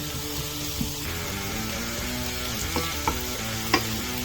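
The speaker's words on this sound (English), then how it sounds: "we're just going to cook this apple cider vinegar down while we soften these onions" Onions softening in a pan with apple cider vinegar cooking down, a steady close sizzle and frying hiss running throughout, with a few light clinks and stirring scrapes near the end.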